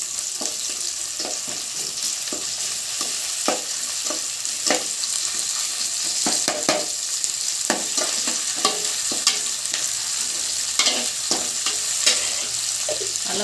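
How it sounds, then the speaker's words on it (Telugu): Ginger garlic paste sizzling steadily in hot oil for chicken fry, with a constant close frying hiss broken by frequent scraping stirs of a spoon in the pan. "అల్లం వెల్లుల్లి పేస్ట్ పచ్చివాసన పోయిందాక వేయించేయాలన్నమాట."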